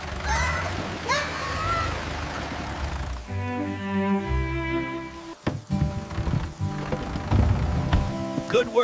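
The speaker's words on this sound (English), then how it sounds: "The rain is starting!" Rain falls on a farm at the start of a storm, a broad steady patter on surfaces mixed under swelling music.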